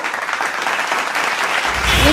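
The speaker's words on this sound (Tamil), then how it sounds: "ஒரு பலத்த கைத்தட்டல் கொடுத்துடலாம்" Loud applause from an audience at a Tamil debate forum event in Pollachi, a broad continuous clatter of clapping that swells toward the end.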